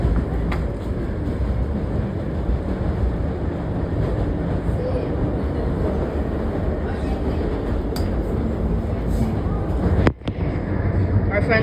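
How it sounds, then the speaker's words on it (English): A New York subway D train runs on the F line toward Coney Island, heard from inside as a loud, steady rumble and rattle of the car on the tracks, with people talking over it. "now the D is running on the F line"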